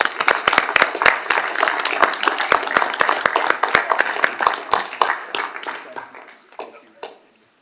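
An audience gives a big round of applause to newly graduated journeymen and their leaders at a city event, dense clapping that stays steady for several seconds and then thins out and fades.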